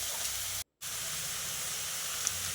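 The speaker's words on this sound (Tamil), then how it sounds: "இந்த காயை இப்போது எண்ணெயிலேயே நல்லா வந்து வதக்கி விட்டுறலாம்" Bottle gourd pieces sauté in hot oil in a home kitchen, giving a steady, even sizzling hiss throughout, with one brief dropout near the start.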